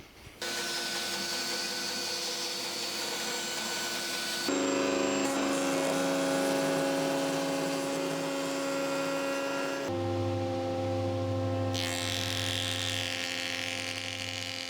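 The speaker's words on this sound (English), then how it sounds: "Right, jigsaw off the worst, router it out." A jigsaw and then a router cut an inlay recess into a hybrid Les Paul–style guitar body, heard as steady, buzzing power-tool whines in distinct back-to-back stretches, each with a different pitch and intensity.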